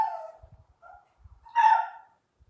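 A dog barks indoors: a few soft yips and whimpers lead into one louder, sharper bark near the end, with quiet gaps and faint thumps between them.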